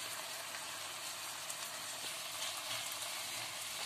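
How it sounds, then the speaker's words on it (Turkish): Tantuni beef frying with chili powder in a pan, a steady soft sizzle hissing throughout at low level, with a brief knock at the very end. "Hemen karıştırıyorum"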